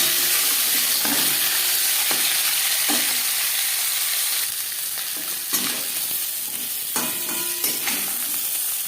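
A marinated katla fish head fries in hot oil in a pan, producing a loud, continuous close sizzle with occasional clicks and scraping from turning or stirring.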